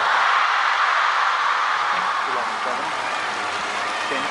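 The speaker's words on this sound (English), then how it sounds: "they get to clap first in celebration of a game 1" Spectators at a table tennis World Cup semifinal in Macao applaud the end of game 1 between Wang Chuqin and Hugo Calderano, a dense, loud wash of clapping that slowly thins beneath a commentator's voice.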